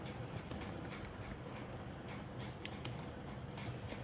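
Python code is typed on a computer keyboard in a steady run of light, close key clicks over a constant background hiss, with no voices.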